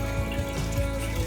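An RV toilet with a porcelain bowl flushes as a close, steady mechanical hum with rhythmic pulsing water surges about every fifth of a second. No one speaks.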